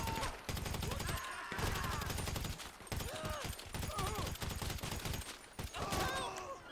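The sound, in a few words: gunfire in the video game GTA Online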